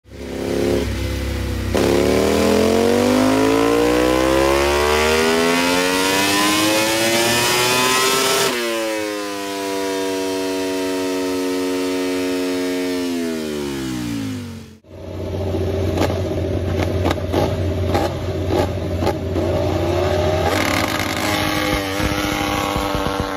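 Ducati motorcycle engine with a dry clutch revving loudly, pitch climbing and falling in long sweeps before a sharp cut to a different, rattly recording.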